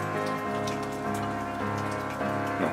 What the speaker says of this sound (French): Enfin, aujourd'hui, il pleut.